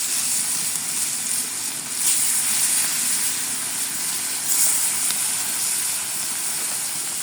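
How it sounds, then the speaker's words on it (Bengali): Fish frying in hot oil sizzles with a steady, dense hiss that swells slightly a couple of times and runs close and continuous throughout, with no talking. "তেল গরম হয়ে গেছে এখন আমি মাছ দিয়ে দিই"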